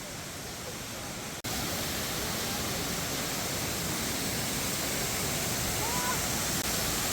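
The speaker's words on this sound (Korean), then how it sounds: "영산폭포의 물줄기가 엄청나요." A steady, powerful roar of rushing water from Yeongsan Falls at Naeyeonsan, Pohang, fills the scene, broadband and unbroken after a brief cut near the start.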